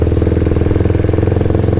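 A Kawasaki Ninja 250 single-cylinder motorcycle engine idles close and loud, a steady, rapid, even thumping pulse with a slight clatter and no talk.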